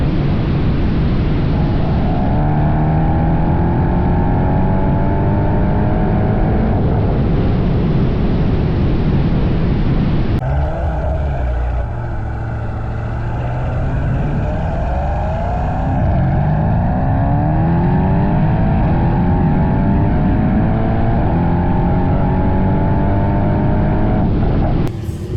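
Mercedes E63S AMG Stage 2 V8 accelerating hard in race mode, a loud continuous engine roar climbing through rising pitch sweeps, with a brief shift break partway and the engine pulling strongly again to the end.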